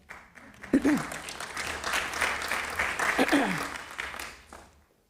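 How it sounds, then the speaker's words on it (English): Audience applause during a city budget address, a dense burst of clapping that swells and holds for several seconds before fading, with brief spoken voices cutting in twice over it. "You can clap for that, Emma."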